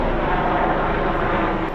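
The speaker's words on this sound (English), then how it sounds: "Helicopter." A helicopter passes overhead, its steady broadband engine and rotor roar loud and continuous throughout, with no talk over it.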